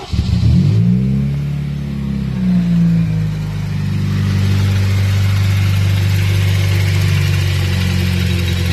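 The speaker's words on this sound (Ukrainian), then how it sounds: "контрольний запуск двигуна, перевірка роботи двигуна" A car engine is started for a test run after repair: it cranks and catches with a loud surge, dips, then settles into a strong, steady running rumble that builds slightly, with no voices.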